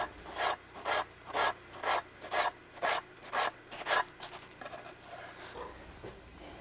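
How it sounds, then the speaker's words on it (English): A knife cuts through a plum lying flat on a cutting board, making a steady run of about nine rhythmic, rasping strokes close up, then softer, quicker slicing that trails off. "Lay it on the flat side, cut it in thin slices."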